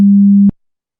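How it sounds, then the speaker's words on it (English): A steady pure tone, one harmonic of a complex tone played in a hearing demonstration, holds level for about half a second and then cuts off abruptly, leaving silence. "all the other four tones, which are just pure tones"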